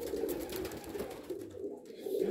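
Breeding tumbler pigeons coo steadily in a loft, a continuous low murmuring chorus of several birds close by, with no talk over it.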